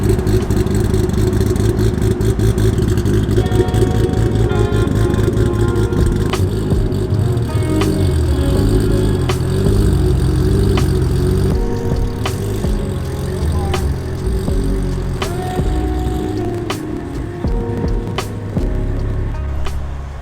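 A Toyota Supra's engine runs loudly and steadily close by as the car is loaded onto a trailer, with clattering metallic knocks and sharp clicks breaking through the continuous rumble.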